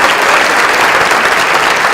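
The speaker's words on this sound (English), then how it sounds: "I want you guys to give him a round of applause." A crowd at a high school foundation hall of fame ceremony gives loud, sustained applause, dense clapping close by with no pause.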